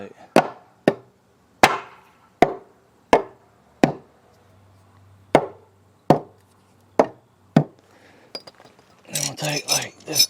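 A chain and ball peen hammer beat a wooden piece to distress it: about a dozen sharp, close thuds land at uneven intervals, followed by a brief jumble of clatter and voices.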